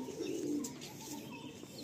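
Pigeons coo softly at a pigeon sale, a low murmuring call with a few faint chirps and a brief sharp click near the end, quiet and slightly distant.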